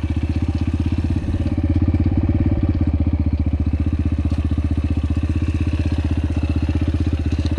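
Yamaha TTR125 motorcycle engine runs steadily at idle nearby, a loud, even thumping beat with mechanical clatter that holds without pause throughout, no talk.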